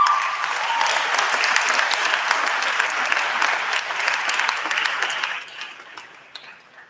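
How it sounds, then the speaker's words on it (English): Applause from an event crowd in a grand hall at a 2023 social celebration, a dense steady wash of many hands clapping that fades out over the last second and a half. "I want to make sure they get a huge round of applause"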